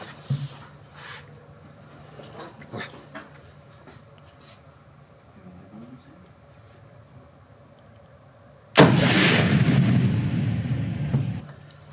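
A single loud pistol shot rings out at a shooting range in Belgium after a quiet stretch of faint handling noises, and its echo decays slowly over several seconds.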